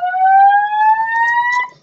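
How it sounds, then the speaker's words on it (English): Fire alarm in a building, a loud steady electronic tone gliding slowly upward in pitch, sounding close and alone for nearly two seconds before cutting off. "fire alarm."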